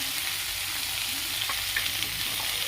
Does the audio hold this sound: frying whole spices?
yes